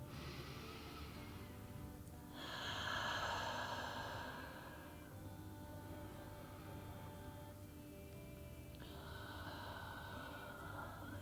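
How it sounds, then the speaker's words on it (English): Two slow, soft breaths, in and out, are taken close up while a small ball presses against the shoulder blade in a release exercise, with quiet stillness between them. "and take a couple breaths."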